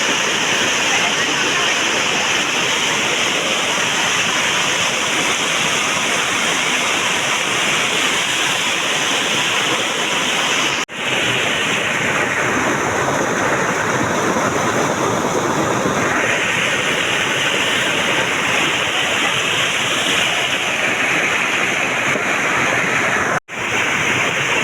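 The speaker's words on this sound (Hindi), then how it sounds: "यहाँ बहुत ही भयंकर गदरा आ गया आज ही हुई बारिश" A raging seasonal hill-stream torrent swollen by heavy same-day rain near the village of Dholani makes a loud, unbroken roar of rushing water. The constant broadband wash runs for over twenty seconds, with only brief dropouts.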